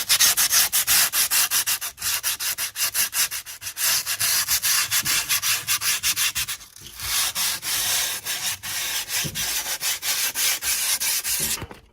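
Steady, loud scraping and rubbing run along the edge of freshly cut skateboard grip tape to clear burrs and press it down, a fast rhythmic stroking that continues almost without pause, with one brief gap midway.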